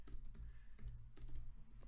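Rapid typing on a computer keyboard, a close and steady run of soft key clicks with no talking.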